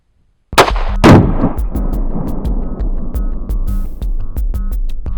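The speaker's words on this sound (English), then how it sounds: "I'm going to load the G2 round 1 shot into my 9mm, and we're going to fire the 1 shot." A 9mm pistol fires a G2 Research R.I.P. round: one sharp, very loud report breaks the silence, a second crack follows at once, then a steady ringing hum with scattered small clicks.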